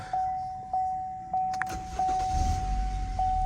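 2017 Chevrolet Impala starting after an exhaust cam sensor replacement, with dash chimes and relay clicks, then the engine catching at once and settling into a low, steady idle, close by.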